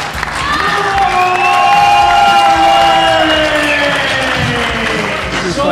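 Loud, close crowd cheering at a world open powerlifting championship, a sustained roar of whoops and shouts rising and holding after a lift, with commentary voices underneath.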